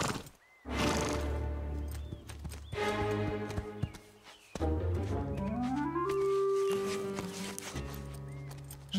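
Animated horses whinny and neigh loudly while hooves clip-clop, with short bursts of sound broken by brief pauses and a long rising cry near the end.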